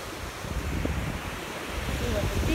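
Ocean surf on Sanibel beach makes a steady broadband wash with heavy wind rumble buffeting the microphone, continuous and fairly loud throughout.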